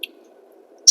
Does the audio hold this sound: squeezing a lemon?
yes